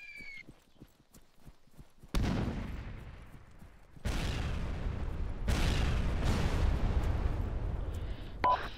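Mortar fire in the Arma 3 military video game: after a few soft thumping steps, heavy booming explosions crash in one after another, close and loud, each leaving a long rumbling roar.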